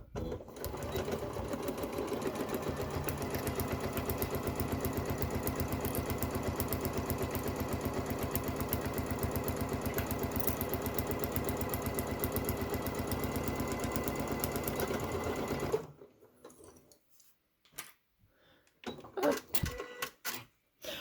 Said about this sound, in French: Nous voici à la machine à coudre. Je vais prendre un fil blanc pour bien que vous voyez. Et je me mets à 1 cm et je commence à coudre